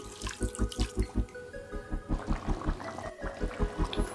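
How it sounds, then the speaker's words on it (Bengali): Heated water is poured into a pot of spiced potato curry for aloo dum, giving a steady close splashing and gurgling flow with a rhythmic pulsing texture throughout; no talking. "ফুটে উষ্ণ করা গরম জল আছে ফেলে দিলাম"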